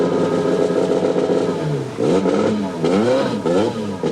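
A Lancia rally car's engine revs hard on a 1984 New Zealand rally stage, the note climbing and dipping through repeated throttle blips, loud and close throughout.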